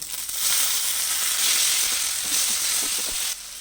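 Ginger-garlic paste, chopped tomato and green chili sizzle and fry with onions in a hot pan, a steady close hiss with light crackles throughout and no talking.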